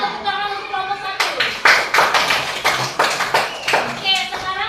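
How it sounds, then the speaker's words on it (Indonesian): Classroom of students applauding a group. Quick overlapping claps come in dense bursts for a few seconds, with children's voices before and after the applause. "Kasih tepuk tangan untuk kelompok 1."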